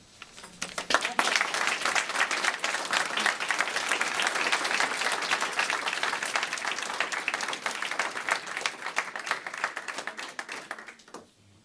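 An audience at the Council of Europe applauds Omeima Abdeslam at a Sahrawi solidarity commemoration. The clapping swells quickly, holds a full, even roar for about ten seconds and then stops abruptly.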